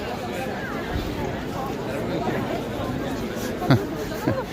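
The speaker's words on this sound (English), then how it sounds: "Bear with me with the crowd." Dense crowd chatter fills a busy shopping street on Via Condotti in Rome at Christmas, a steady murmur of many voices with footsteps and a few nearer sharp sounds passing close by.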